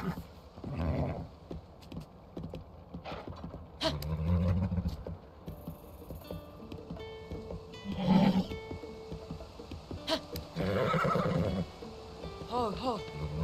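Horse in the game Zelda: Tears of the Kingdom giving a few whinnies and snorts between stretches of game sound, near and clear, with talking heard at times.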